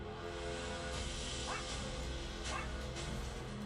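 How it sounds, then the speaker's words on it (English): A dog in an AI-generated film's sound mix gives a couple of short yips and whimpering barks, moderately distant, layered over a steady, dense background bed of noise. "There's the dog barking, right?"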